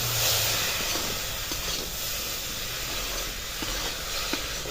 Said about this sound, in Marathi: हे वाटाणे असे घालून घ्यायचे आणि परतून घ्यायचे ह्या फोडणी बरोबर